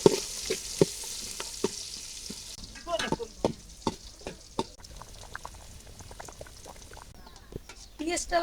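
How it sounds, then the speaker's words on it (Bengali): Chopped onion fries in oil for pulao and is stirred, sizzling under a series of sharp clattering spatula strikes against the pan, close by, with a voice speaking at times. "তেল দিয়ে দিলাম পোলাওতে দেওয়ার জন্য পিঁয়াজ কুচি দিয়ে দিলাম পিঁয়াজ কুচিটা সুন্দরভাবে চালিয়ে নেব আগে"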